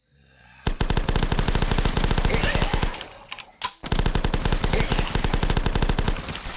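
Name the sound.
UMP-45 gunfire in video game The Last Stand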